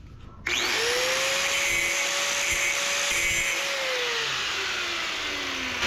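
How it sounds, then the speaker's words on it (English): An angle grinder cutting into a transformer winding to check for copper, starting abruptly and holding a loud, steady high-pitched whine for about five seconds before its pitch sags slightly, close and alone. "get the grinder and see what we're looking at here"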